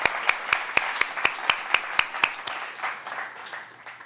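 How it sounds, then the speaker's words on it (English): At a film screening event, an audience claps for a woman honored for her project, opening with sharp evenly spaced claps close by, then thinning into a softer scattered patter that fades out. "we need to give Bonnie a round of applause for her work on this project"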